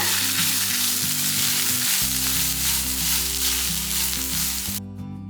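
Onions and grated coconut for a thuvaiyal sizzle steadily in a hot pan, a continuous crackling hiss with soft music playing underneath, cutting off near the end.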